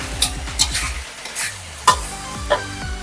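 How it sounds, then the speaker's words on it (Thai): Batter being stirred in a pan with the heat just switched off: repeated scraping strokes with a spoon or spatula against the pan, a faint leftover sizzle underneath, close and fairly loud, with no talking. "เมื่อแป้งสุกแล้วนะคะปิดไฟค่ะ คนประมาณนี้ค่ะ"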